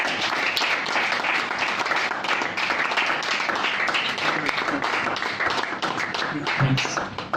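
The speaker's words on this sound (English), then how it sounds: "I think applause is a really funny thing because you just kind of hit yourself to show that something's cool" Audience applause rises after a spoken word poem performance, a dense, steady wash of many hands clapping close and loud for several seconds, with a few faint voices mixed in.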